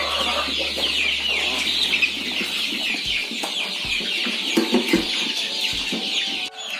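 Many chickens cluck and squawk busily at close range while competing for feed, a dense overlapping chorus with occasional louder calls and some rustling.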